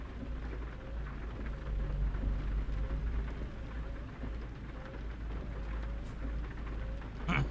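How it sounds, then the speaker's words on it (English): Steady rain hisses throughout a driving video game, played on a steering wheel setup, with a dense, even wash of noise and occasional faint low rumbles beneath, no speech over it. "Our first rain of the game."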